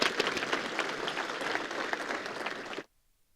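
An audience breaks into a round of applause, dense, lively clapping with scattered louder claps that stops abruptly after about three seconds, leaving near silence.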